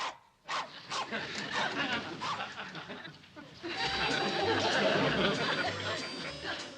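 A dog barks several times at a house in the morning, with short sharp barks mixed in with family chatter and laughter in a sitcom scene. The noise swells to a busier, louder mix near the end.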